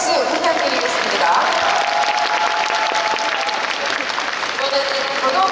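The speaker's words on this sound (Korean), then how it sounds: "우리 감독님께 박수 부탁드리겠습니다" An audience at the 2024 Busan International Film Festival open talk applauds the director with steady, loud, sustained clapping, while a voice speaks over it.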